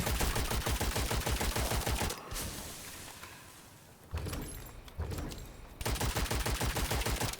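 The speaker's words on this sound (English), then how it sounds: "Who's shooting me?" Gunfire in the dark fantasy shooter game Witchfire: rapid, rhythmic bursts of shots, close and loud, easing off in a quieter middle stretch before the rapid firing resumes.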